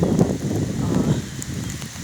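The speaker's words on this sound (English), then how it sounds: "some big wind gusts of about 60 miles per hour" Hurricane wind gusts of about 60 miles per hour roar around a house, a loud, buffeting rush with fluttering bursts and microphone rumble, steady and close without talk.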